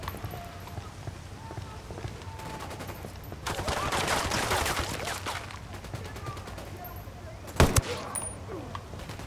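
Gunfire in the video game Ghost Recon Wildlands: bursts of shots over steady background noise, with a sharp, loud close shot near the end.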